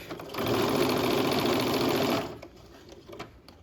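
A sewing machine stitches a garment lining around a curved waistline seam for a slashed pocket, running in one steady, close burst of about two seconds before stopping, with faint handling noises afterward.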